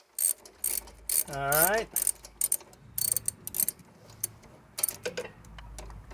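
Ratchet wrench with an 11 millimeter socket clicks in quick bursts, close and fairly loud, with a rising whirring sweep and pauses between strokes; someone says a couple of words.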